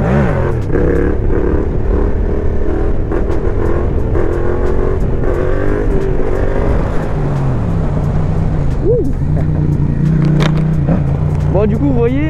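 A motorcycle with a newly fitted full exhaust system accelerates hard, its loud, close engine note climbing and holding steady while someone talks over it.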